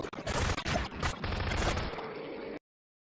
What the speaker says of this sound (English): He was shooting a zombie.